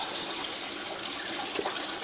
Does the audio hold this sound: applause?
no